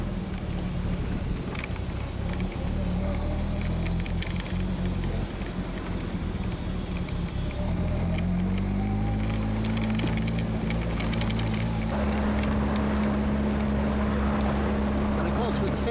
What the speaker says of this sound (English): If it sounds different, that's because this has a 4-cylinder Toyota engine.